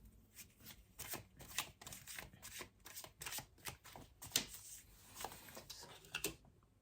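Tarot cards shuffled and slid during a love reading, a steady run of crisp riffling flicks and soft slaps close up, fairly quiet, with no talking.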